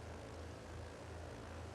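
An aircraft engine in Microsoft Flight Simulator hums at a steady, even drone, a faint continuous propeller-like tone with no other sounds.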